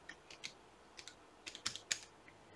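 Computer keyboard keys tapped while entering a password, a quick run of sharp, close clicks in small irregular bursts against a quiet background.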